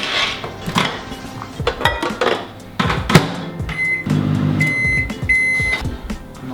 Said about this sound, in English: I'm just going to microwave that. Okay, so just whack that in for 20 seconds.